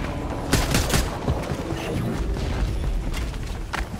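Fortnite gameplay gunfire, with repeated sharp shots and short bursts popping over a busy background of game noise, fairly loud and spaced irregularly across the stretch.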